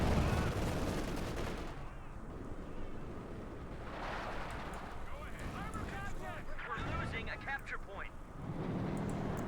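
Gunfire in a Company of Heroes 2 match as German grenadiers engage American paratroopers: dense bursts of rifle and machine-gun fire with a busy battle background, heard under a commentator's steady talk.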